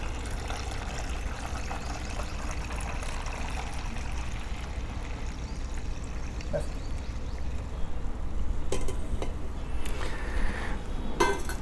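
Water is poured steadily into a hot rice starch solution being mixed as an organic garden pest spray, a continuous close trickling rush that lasts throughout and grows a little louder toward the end, with no talking.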